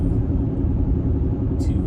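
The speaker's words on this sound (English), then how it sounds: "so the roar from the tires" Steady low road roar from the tires of a 2014 Mercedes-Benz GL350 (X166) while driving, a dense continuous rumble heard from inside the cabin with no clear breaks.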